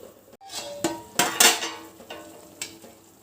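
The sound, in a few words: stirring chicken biryani in a pot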